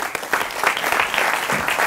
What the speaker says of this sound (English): Please give a warm applause to our keynote speaker from Chicago, Mr. Randy Lewis.